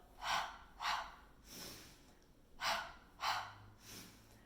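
A Pilates participant exhales during a mat exercise, with several soft, airy breath bursts in a steady rhythm, close and fairly quiet, and no talking.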